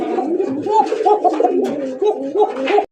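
A fancy racer pigeon coos repeatedly up close, its rolling, throaty calls running almost without pause, with another voice faintly mixed in.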